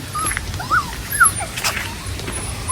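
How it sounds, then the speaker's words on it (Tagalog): Two puppies make high, thin whimpers and short yips in quick scattered bursts, close by and fairly soft, over a low background hum near a fishpond. "Dalawang tuta."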